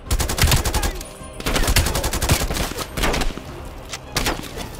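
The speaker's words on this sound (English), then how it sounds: "Flashbang." Rapid bursts of automatic gunfire in the Call of Duty Black Ops Cold War video game, loud, close and repeated in several volleys with short gaps between them.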